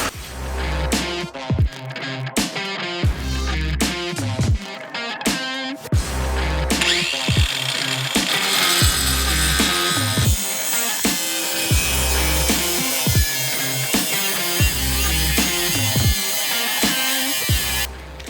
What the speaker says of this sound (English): I'm going to cut the bumper at an angle on both sides